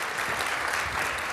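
Conference audience clapping after a keynote talk on retrospectives, a brief steady burst of many hands applauding together with no voices over it.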